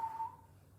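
A person briefly whistles a thin, high note imitating the high-pitched bowel sound heard in a bowel obstruction. The single faint whistle lasts about a third of a second over a quiet background.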